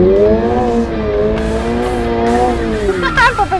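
A Toyota GR86 drifting at full throttle around a circle, its engine revving hard and close with a steady rising note, tires squealing near the end.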